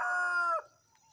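A farmyard rooster crows once, close and loud, a bright sustained call that cuts off sharply, followed by quiet.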